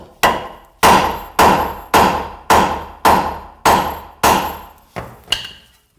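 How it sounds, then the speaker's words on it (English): A hammer taps on a car suspension nut, eight sharp metallic strikes in an even rhythm about half a second apart, loud and close, the last two lighter. "you back the nut off maybe like a couple millimeters, and then you just tap on it with the hammer"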